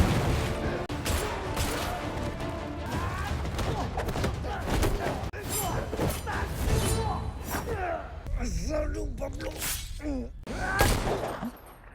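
Gunfire in a film fight scene, with repeated sharp shots and impacts crackling amid music and effects, loud and chaotic across the whole stretch.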